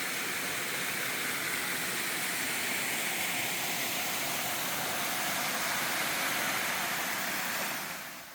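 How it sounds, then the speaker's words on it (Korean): A small waterfall in a mountain valley gives a steady, broad rushing roar that stays even throughout, close and alone, then fades slightly at the very end. "이렇게도 작은 물줄기가 모여 멋진 폭포를 만들었습니다"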